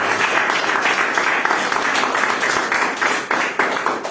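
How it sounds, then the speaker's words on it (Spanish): A church congregation claims applause in worship, producing steady dense clapping that fills the whole stretch at a loud, even level with no talk over it. "Da un aplauso a nuestro Dios."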